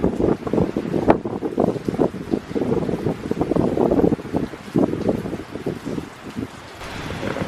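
Wind gusting steadily across a covered park area outdoors, a broad rushing roar with buffeting against the microphone that continues throughout, with no talking.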